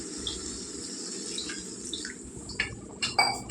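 Water is added to tomato gravy for a potato curry, starting as a quiet trickle and building to a few louder splashes near the end.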